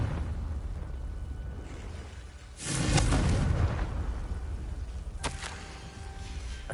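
A Confringo fire spell going off in the Hogwarts Legacy video game, a sudden loud booming burst with a crackling roar that fades, followed by a sharp zap-like hit, set against steady game ambience.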